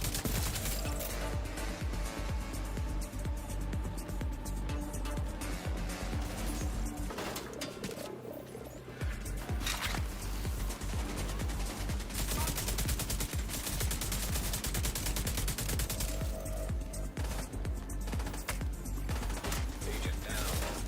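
Sustained automatic fire from a Stoner LMG in The Division 2 rattles on continuously and loudly, dense bursts with only a brief lull partway through, layered over in-game ambient noise.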